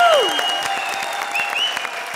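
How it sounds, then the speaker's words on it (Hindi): A comedy show studio audience breaks into brisk applause, the clapping sustained and fairly close, running under some tonal background music. "जोरदार तालियां।"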